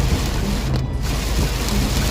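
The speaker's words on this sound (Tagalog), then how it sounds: "lakas ng ulan." Heavy rain pours in Lipa, Batangas, as a loud, dense, continuous roar with a deep rumble underneath and a brief dip near the middle.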